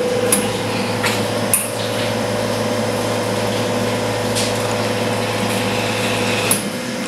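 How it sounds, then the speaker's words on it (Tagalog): A Sanremo Zoe espresso machine runs during a brewing test, with a loud, steady motor hum and hiss and a few sharp clicks or knocks at intervals. "Ngayon test the machine tayo."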